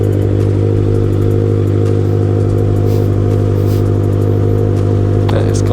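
A Kawasaki ZX motorcycle engine idling loud and close, a steady low throbbing rumble that runs through the whole stretch, with a brief clatter near the end.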